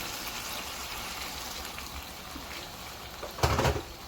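Water pours steadily into a pan of beef and onion stir fry with a continuous gushing, splashing wash. A louder surge comes near the end.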